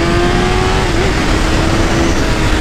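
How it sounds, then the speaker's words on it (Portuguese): A new motorcycle engine is held near the rev limiter, a loud, steady, close high-revving drone with a sustained whine and a brief wobble in pitch midway. "O motor dela chega a limitar, bonito de ver, né?"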